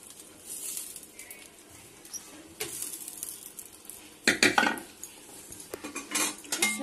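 A metal lid is set over a pot of whole moong dal, with scattered light clinks, then a louder cluster of clattering metal knocks near the end.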